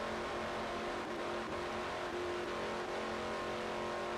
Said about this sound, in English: Right, we're hitting the rev limiter.